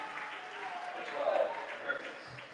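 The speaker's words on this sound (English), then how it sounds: "Generous applause again from the Westbury crowd, and rightly so." Applause from the Westbury United crowd at a county ground football match in the Wiltshire Premier Shield; a steady, distant patter of clapping runs throughout under a commentator's voice, swelling briefly near the middle.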